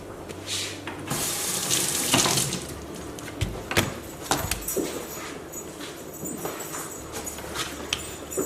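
Water runs from a kitchen tap over an onion, splashing and spattering steadily up close with irregular bumps and knocks as it is handled under the stream.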